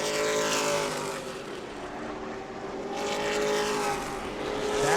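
Late model race cars roar side by side down the back straightaway at New Smyrna, a loud, sustained engine drone that swells, dips and swells again as they pass.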